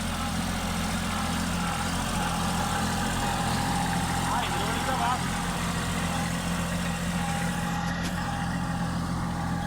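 A tractor engine runs steadily at an even, low drone throughout during herbicide spraying, close by, with faint voices mixed into the noise.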